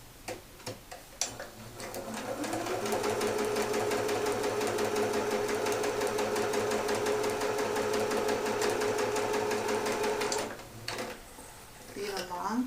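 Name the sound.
sewing machine stitching fabric pieces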